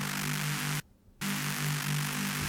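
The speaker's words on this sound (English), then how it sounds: "Another Reese with some more white noise and a little bit more mono" A sustained Reese bass synth layer blended with white noise and kept fairly mono drones steadily, cutting out briefly for a short silent gap before resuming at the same level.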